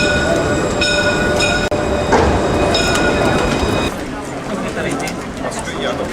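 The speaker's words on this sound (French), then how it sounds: "il y a un tramway qui arrive" A tram arriving on street rails in a French city, a steady rolling rumble with high metallic tonal whine and squeal, loud and close throughout, with people talking nearby.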